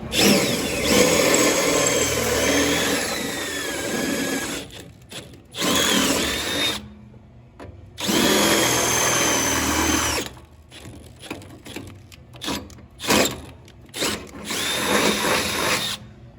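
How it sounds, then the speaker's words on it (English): A power drill whines loudly in several long bursts, drilling holes to mount power steps on a 1988-98 GM truck, starting and stopping, with short quiet gaps between runs. "And drill these holes out."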